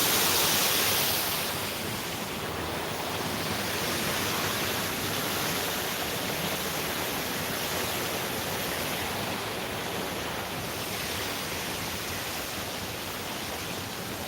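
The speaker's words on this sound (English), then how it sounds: "it's a pretty neat little water feature here in the park" A small water feature fountain in a park along a boardwalk on an evening walk gives off steady, close splashing and rushing water, continuous and fairly loud, with no one talking.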